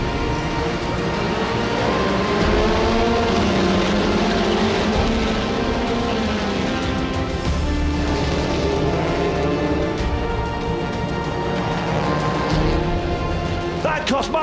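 A pack of TCR World Tour touring race cars roaring away at a race start, a dense, loud, continuous wall of engines with a commentator talking over it.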